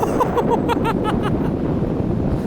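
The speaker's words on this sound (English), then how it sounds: "It's kind of windy now." Strong wind at a beach buffets the microphone with a constant low roaring rumble throughout, while a voice briefly talks over it near the start.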